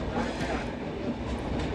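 Diesel passenger train arriving at Nizamabad station in India, a continuous rumbling roll heard from aboard, steady and moderately loud with a faint clatter of wheels.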